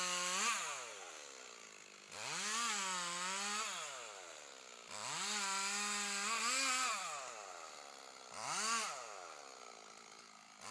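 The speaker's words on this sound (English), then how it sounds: "A Sequoia sempervirens tree is being cut using the pencil sharpener method of shrinking the tree" A chainsaw cuts into the base of a coast redwood, its engine revving up and bogging down in several long sustained bursts with short easing-off gaps between them, loud and close.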